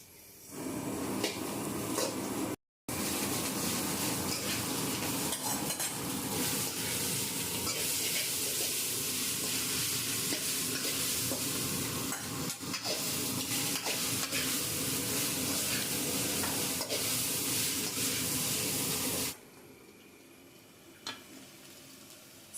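Chicken noodles stir-fried in a pan, a loud dense continuous sizzle and hiss with utensil scraping that runs almost unbroken, cut by one brief dropout, then falls to a quieter background near the end.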